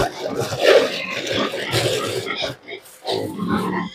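Young piglets at the pre-starter feeding stage grunt and snuffle close by in a pen, a run of low rough grunts broken by a short pause before more grunting resumes.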